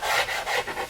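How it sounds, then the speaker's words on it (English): A small sanding block rubs along the edges of a wooden router table top in quick, steady back-and-forth strokes, close up and fairly loud, with no talking. "I like to take a little sanding block"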